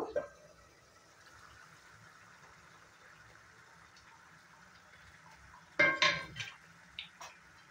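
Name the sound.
lifting the lid off a cooking pot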